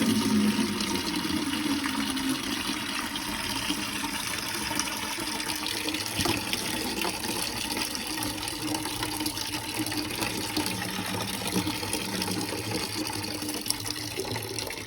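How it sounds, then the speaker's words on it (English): Water rushes continuously from an opened drain tap while a house's plumbing is drained, a loud, steady hissing flow that runs without a break from start to finish. "I'm going to just open this and see if there's any water coming out there"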